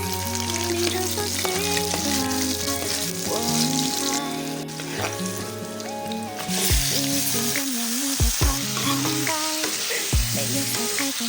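Oil sizzles steadily in a hot wok-style pan while chicken adobo is cooked at home, a continuous frying hiss layered under music.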